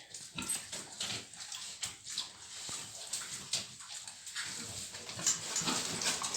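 Piglets squealing and grunting close by, a busy overlapping chorus of high squeaks and snuffles with splashy, rustling background noise throughout.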